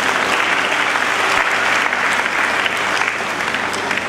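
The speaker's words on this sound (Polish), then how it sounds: "wielkie brawa" Dense audience applause at a public announcement of citizens' budget results, continuous and fairly loud with no gaps.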